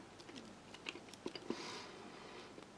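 Firm Russian army ration gum being chewed up close, with quiet irregular crunching bites and squishy mastication clicks scattered over a few seconds, no talking.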